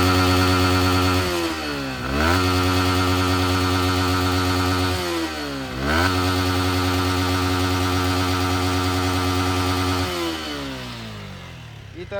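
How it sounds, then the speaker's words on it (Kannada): Yamaha MT-15 V2 motorcycle engine revved up hard in close range, holding a loud high buzz, dropping and rising again in two clear blips before settling and fading toward idle. "ಈ ಥರ ರೇವ್ ಮಾಡಿ ನೋಡಿರಿ."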